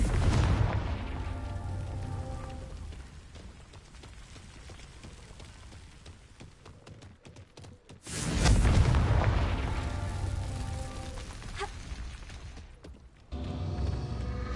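Fiery Confringo spell blasts in the video game Hogwarts Legacy, a deep booming explosion that swells loudly, fades into a long rumbling tail, then a second heavy blast erupts, followed by more rumble.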